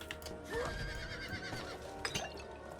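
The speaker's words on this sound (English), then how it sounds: "Back on the old horse." A horse neighs and whinnies in the Diablo 4 video game, a drawn-out call rising and falling over about a second, with hoof clip-clop and game ambience continuing around it.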